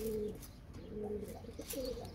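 Miro and curly-feathered pigeons cooing, several soft low coos in a repeating rhythm, close but quiet against a hushed background.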